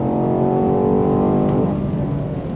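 A 2022 BMW Alpina B8 sedan engine pulls hard and steady out of a corner, its harmonic whine climbing in pitch as it accelerates, loud and close throughout.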